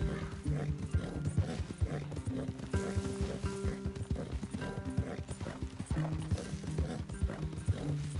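Rhythmic clip-clopping of horse hooves in Red Dead Redemption 2 plays steadily throughout, layered with a soft game soundtrack and occasional faint voices.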